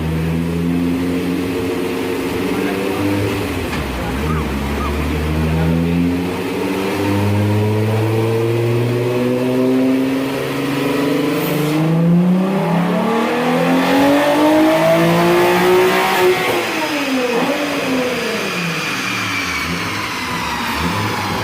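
A low-compression, naturally aspirated VR6 engine in a Volkswagen Corrado revs hard on a dyno, with a loud, continuous drone that climbs and falls through repeated sweeping pulls and no talking.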